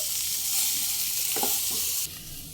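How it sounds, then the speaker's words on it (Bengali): Potatoes frying in ghee in a pan are stirred, a steady close sizzle with a few scraping stir strokes in the middle, and the hiss thins slightly near the end. "আবার একবার নেড়ে দেব"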